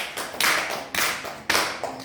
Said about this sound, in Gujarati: ખુશાલીબેન માટે તાળી પાડજો